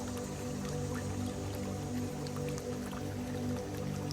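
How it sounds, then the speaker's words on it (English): Steady babbling brook with continuous trickling, dripping water and a constant low rush, close and even throughout with no voices. "the gentle flow of the brook"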